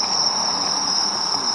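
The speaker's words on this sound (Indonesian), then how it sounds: "Lihat bro, jangkrik bro" Crickets chirp at night in a Japanese village, a steady high trill that holds loud and unbroken over a faint background hum.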